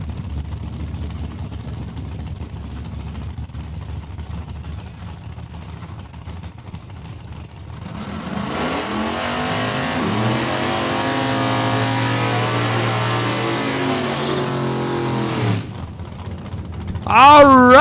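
A Pontiac Acadian drag car at a raceway idles low, then rises into a loud, sustained revving roar that holds for several seconds before cutting off. An announcer talks over it.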